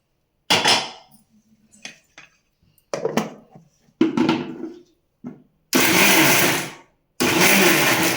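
A mixer grinder whirs in short pulses as it blends cooled mudakathan greens with ground pepper, cumin and garlic, with several brief loud bursts separated by silence, the last two longer and more sustained.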